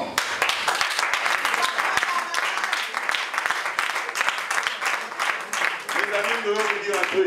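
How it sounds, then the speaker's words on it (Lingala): Audience applause and clapping fill a comedy festival hall in Kinshasa, a dense, steady wash of hands that continues throughout, with some voices mixed into the crowd. "Non, applaudissez pour ma maman."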